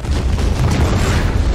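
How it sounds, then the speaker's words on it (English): A loud explosion from the spy film Spectre plays as a dense, rumbling burst of noise that fills the short stretch without a break. "That was a cool explosion."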